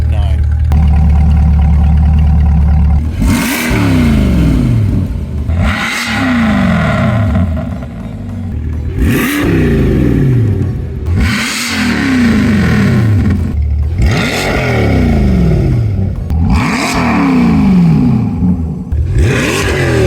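A C8 Corvette E-Ray fitted with a Corsa exhaust revs hard in a series of loud, close blips, each climbing and falling back to a deep idle, with a steady rumble running between the bursts.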